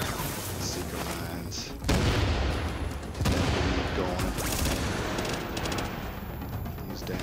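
MP7 submachine gun fire in the video game The Division, rapid close bursts of shots with heavier booming blasts mixed in, loud and continuous across the scene.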